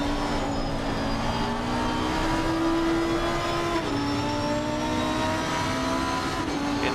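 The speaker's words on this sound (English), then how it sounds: "Go with a quick onboard with the Lamborghini of Sievert." Onboard Lamborghini race car lapping the Nordschleife in a pro series finale, its engine holding a steady, loud drone with rising and falling pitch through gear changes, continuous and close with no talk.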